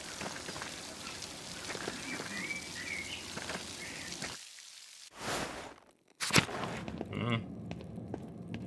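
Steady rain pours in the video game Pentiment, a dense, even hiss that suddenly drops away and returns in short bursts, with faint bird chirps scattered through it.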